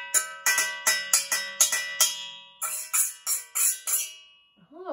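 Bright metallic pings from tapping a metal colander in a quick rhythm, about a dozen taps with ringing overtones, close by, ending with a brief rustle.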